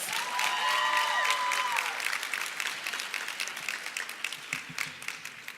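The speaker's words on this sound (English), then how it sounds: "Please give our keynote speaker, Ms. Adrienne White, and all of our APS students a round of applause." Audience applause for a keynote speaker and students at a 2019 lecture series event, a loud burst of clapping with some whistles that gradually thins out over a few seconds.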